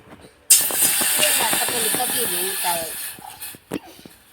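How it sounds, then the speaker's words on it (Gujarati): Water hits a hot pan for making tea with a loud, sudden sizzling hiss that steams steadily for a few seconds and then fades, while someone talks over it. "પેલા પાણી નાખી દઉં"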